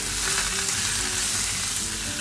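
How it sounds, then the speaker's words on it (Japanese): Bacon tossed and stir-fried in a hot pan for a packed lunch, giving a steady, close, loud sizzle with crackling fat and no pauses, no voices. "でこれをバサ炒め合わせるよ"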